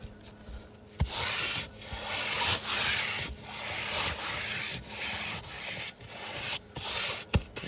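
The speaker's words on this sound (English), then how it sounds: "I'm just gonna rub my hand to this area that I didn't touch" A hand rubbing back and forth over skin on an untreated control area, a steady close friction swish in long strokes with brief pauses between passes, with no talking.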